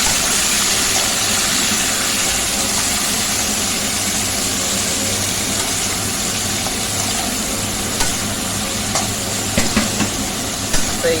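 Vegetables for chow mein are stir-fried in a pan, a loud, dense, continuous sizzle and hiss with a steady low hum underneath and a few scraping clicks near the end.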